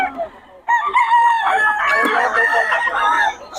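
Young gamecock stags crow loudly at close range at a Bocaue gamefowl market, a sustained call of about three seconds that starts after a short quiet opening.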